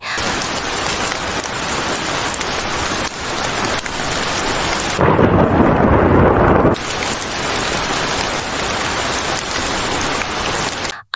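Heavy rain pours steadily in a rural village setting, loud and close, with a deep rumble of thunder rolling through the middle of the downpour.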